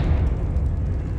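The Confringo fire-blast spell explodes in Hogwarts Legacy, a sustained roaring, crackling burst of low rumble that fills the brief moment at constant loudness.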